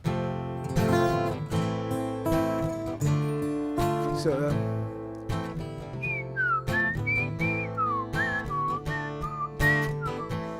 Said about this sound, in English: this one has some strange whistling